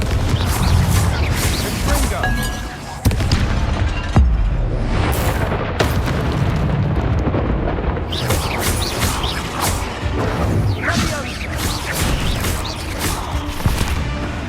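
Fiery Confringo spell blasts in Hogwarts Legacy burst out amid a dense, loud rumble inside a tomb, several sharp booming hits landing over a constant crackling din.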